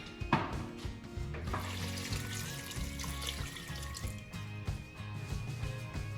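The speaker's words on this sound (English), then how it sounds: "and then I will add a bit of water." Water poured into a cooking pot of seasoned chicken gizzards, a steady trickling splash with gurgles and drips, close and moderately loud, pausing briefly near the end before resuming.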